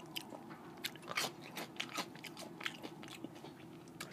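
Close, crisp bites and moist chewing of a breakfast cheeseburger, with irregular crunchy snaps and softer mouth sounds repeating steadily throughout, no talking.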